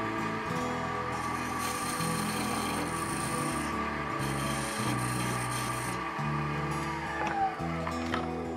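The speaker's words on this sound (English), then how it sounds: "so we've started some sanding and we'll start out at about 180 grit" Wood spinning on a lathe being sanded with 180 grit sandpaper while turning a plug or tamper, giving a steady, close rubbing rasp over the lathe's continuous hum for several seconds.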